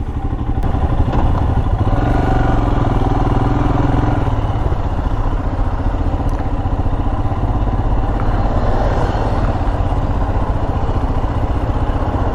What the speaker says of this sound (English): I've asked them to just adjust the idle a little bit more, make it a little bit higher